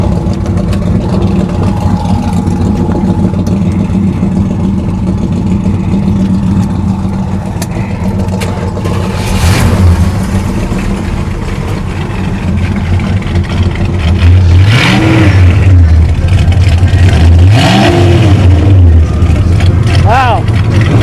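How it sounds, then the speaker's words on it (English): A 1965 Plymouth Satellite engine rumbles loud and close, idling steadily before rising into several throttle revs, with people talking over it. "Would you mind firing it up so we can hear what it sounds like?"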